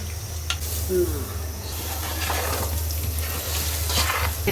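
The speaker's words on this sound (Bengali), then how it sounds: "সেই তেলেই সব মশলা দিয়ে দিচ্ছে ছোট এলাচ দারচিনি" Whole spices, green cardamom and cinnamon, frying in hot oil: a steady close hiss and sizzle with faint stirring scrapes, over a constant low hum, alone without talk.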